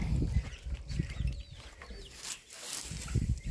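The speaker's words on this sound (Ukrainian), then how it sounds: "Так, індичата." Turkey poults on a farmyard give faint, scattered high chirps over low rustling and shuffling noise, with a few brief peeps standing out.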